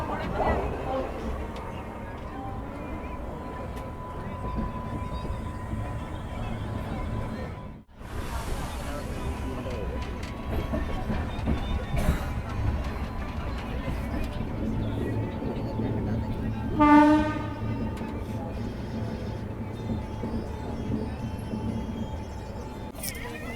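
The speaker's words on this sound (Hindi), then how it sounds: "अपनी हिमाचल एक्सप्रेस निकल चुकी है दिल्ली जंक्शन से 2 मिनट डिले के साथ" An LHB-coach Himachal Express train rolling out of Delhi Junction, a steady rumble and rattle of the carriage throughout with a whooshing pass and a tonal screech later, people talking faintly in the coach.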